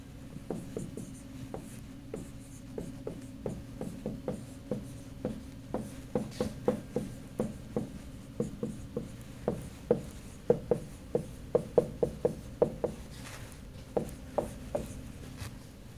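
Chalk or marker strokes on a board during a physics lecture on field lines, a long run of quick rhythmic taps and scratches with brief pauses, close and steady throughout.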